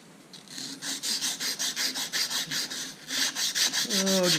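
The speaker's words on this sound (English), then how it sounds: "just going to clean up the shaft a little bit. Not too much. And I'm using plumber's sandpaper on" Plumber's sandpaper rubbed by hand along a rusty Troy Bilt Horse rototiller shaft, a close, steady series of rhythmic back-and-forth rasping strokes, about two per second, ending in a brief squeak.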